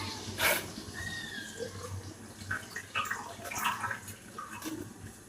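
Water poured from a vessel while making tea with packet milk in a roadside tea-stall kitchen, a soft, faint splashing and trickle with scattered clinks, quiet and close, with no talk.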